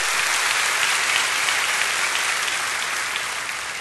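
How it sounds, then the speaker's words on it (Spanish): Church congregation applauding together, a dense, steady wash of many hands clapping that fades slightly toward the end, heard alone. "Un buen aplauso al Señor."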